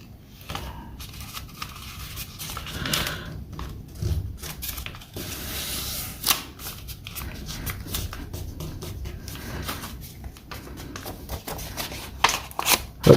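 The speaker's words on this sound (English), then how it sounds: "Flip it over and fold the other side." Paper being folded and creased into a paper airplane, with close, irregular rustling, rubbing and crinkling throughout and sharper crisp presses near the end; no talking.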